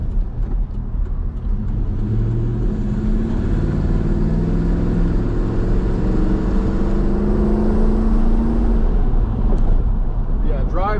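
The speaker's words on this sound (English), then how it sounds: "It's got a Hemi. Gotta drive it like it's got one." A Hemi-engined car driven hard, its engine droning and revving steadily and loudly up close for the whole stretch, with a voice talking over it.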